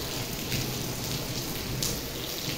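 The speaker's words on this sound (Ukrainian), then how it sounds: "Ну, Слава Богу, хоч дощ пішов." Steady rain with hail pattering down in a Ukrainian village during the first hailstorm, a dense, even hiss of drops striking nearby surfaces with no voices.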